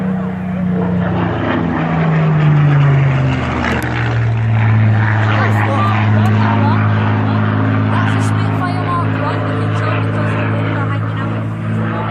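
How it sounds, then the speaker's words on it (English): Supermarine Spitfire flying overhead at a World War 2 reenactment in Crowle, its piston engine a loud steady drone whose pitch slides downward as it passes, with people talking underneath. "And I can tell by that engine that is definitely a Spitfire."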